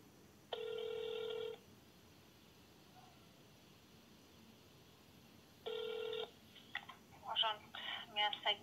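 Telephone line tones during a call transfer to a secretary's office at a town hall, two separate steady electronic beeps about a second long, with faint sounds and voice fragments afterward.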